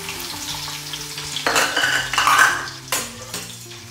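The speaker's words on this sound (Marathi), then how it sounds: "त्यानंतर आपण हा ठेचलेला लसूण टाकूया" Crushed garlic tipped into hot oil already holding curry leaves, sizzling loudly close up in a pan with a sharp burst as it lands, then metal spoon scrapes and clinks while it is stirred.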